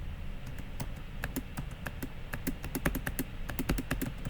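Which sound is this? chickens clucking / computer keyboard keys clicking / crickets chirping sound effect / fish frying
computer keyboard keys clicking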